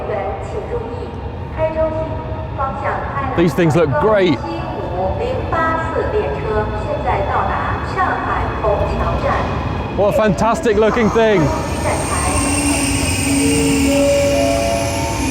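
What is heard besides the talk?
high-speed bullet train arriving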